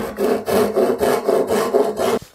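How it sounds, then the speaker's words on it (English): A hand saw crosscuts wood down to a mark for a tenon on side table stretchers. About five loud, close back-and-forth rasping strokes end in a sharp stop. "use the very same saw, just rotate it so I'm using the crosscut teeth and cut down to this mark"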